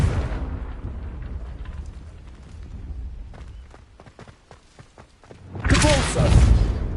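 Confringo fire spell cast in the Hogwarts Legacy game, a loud, sudden fiery blast that erupts near the end after a stretch of softer rumbling thuds and scattered clicks.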